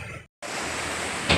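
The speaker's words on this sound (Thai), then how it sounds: "น้ำไหลไปตามทุ่งนานะครับน่ากลัวเลยครับ" Floodwater pours across rice fields through a breached dike in Kosum Phisai district, a dense, rushing wash of noise that cuts out briefly before resuming.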